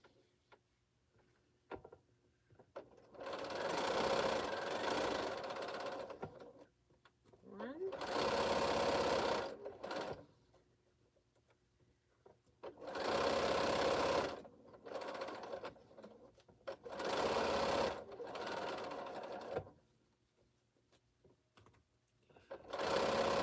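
A home sewing machine runs in several bursts of steady stitching as quilt rows for an Exploding Star quilt are joined, the motor whirring loud and close with pauses between runs and a voice speaking in the gaps.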